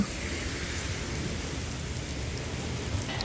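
Continuous rain falls in a steady, even hiss, close and unbroken, with a faint low rumble beneath it, beside a bridge over the Surma River in Sylhet, Bangladesh.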